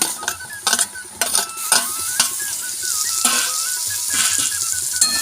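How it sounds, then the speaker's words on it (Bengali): Chopped tomatoes hit browned frying onions in a wok, giving a loud, close, continuous sizzle with bursts of stirring and clattering utensil scrapes throughout. "এবার আমি কড়ার মধ্যে টমেটো কুচিগুলো দিয়ে দেব।"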